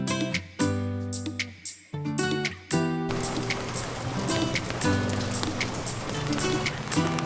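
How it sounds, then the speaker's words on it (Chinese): Rain falling on Beipu Old Street in Hsinchu, a dense steady patter that swells after a few seconds, with a few sharper drips and some talk in the first half. "很不幸下雨了"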